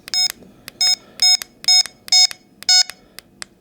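A detector emits a series of short, loud electronic beeps at a steady rhythm, about seven in a row, as its volume is stepped through seven levels including a silent mode; no one speaks during the beeps.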